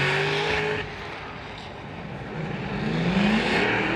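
A Formula Drift Pro 2 car on the Atlanta track, its engine droning and wavering as it bogs down mid-corner, then building revs again, loud and steady with a broad roar of tire and exhaust noise.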